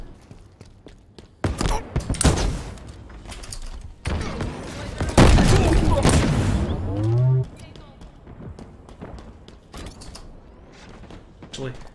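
Explosions and gunfire go off in Halo Infinite multiplayer during the Fracture: Tenrai event. Loud, booming bursts cluster in the middle of the stretch, then fade to scattered clatter while a player talks.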